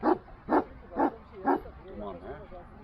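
An Akbaş dog barks four times in an even rhythm, close and fairly loud, followed by softer whining or yipping.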